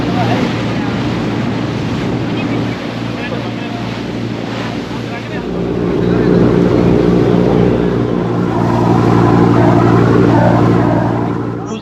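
A cruise boat moves slowly across the water on a James Bond Island tour from Phuket, steady engine drone and rushing water with wind buffeting the microphone, growing louder toward the end, with voices faintly underneath.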